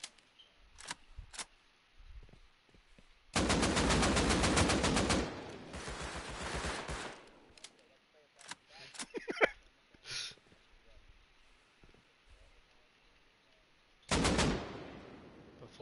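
AK rifles firing in a video game: dense full-auto bursts, a long loud one near the start and another near the end, between scattered single sharp shots and quieter clatter.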